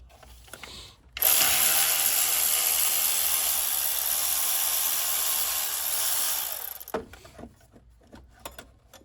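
A ratchet wrench working a bolt loose beside the pulley during an M112 water pump replacement, one sustained grinding, rasping burst of about six seconds, close up, followed by a few scattered clicks and knocks.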